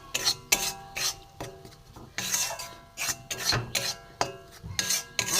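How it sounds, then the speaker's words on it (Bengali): Flour is dry-roasted in a pan over low gas and stirred with a utensil, giving repeated close rasping scrapes in an uneven rhythm, about a dozen strokes, with no talk. "ময়দাটা একটু ভালো করে ভেজে নেব"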